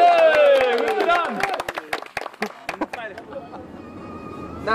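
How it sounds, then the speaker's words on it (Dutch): A few people at a bachelor party clapping in a quick scattered burst after loud cheering voices, the claps fading out to a quiet room with low background hum; a small group, near. "En applaus!"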